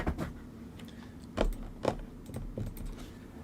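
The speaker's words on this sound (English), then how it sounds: "You got to type something." Scattered keystrokes on a computer keyboard, soft and close, with a few sharper taps standing out in an irregular rhythm over a quiet room background.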